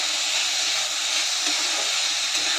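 Vegetables sautéing in a pan for veg hakka noodles give off a continuous, even sizzle that holds steady throughout without pauses.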